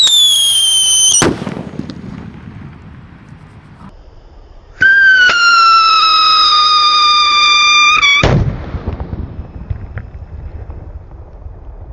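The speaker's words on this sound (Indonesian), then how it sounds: "Mercon Rambo, kita dengarkan suaranya teman-teman" A VMAX Mercon Rambo firecracker from an outdoor evening fireworks session bursts with a loud crackling blast, fades into a hissing tail, then a second sustained whistling, crackling burst erupts before fading again.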